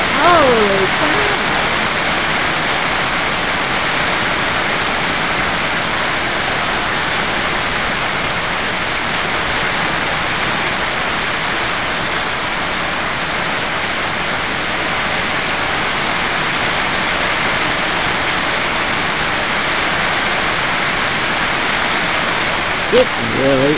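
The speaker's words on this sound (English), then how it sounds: "It really is raining out there." Heavy rain roars outside as a dense, steady hiss that holds unbroken and loud from start to finish.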